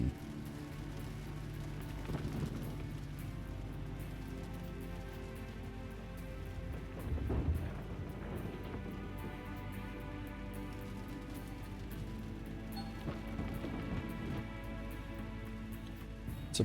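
Steady rain pours in the Gold Rush video game, a continuous broad hiss with a few louder swells but no distinct thunder crack, alone without talk.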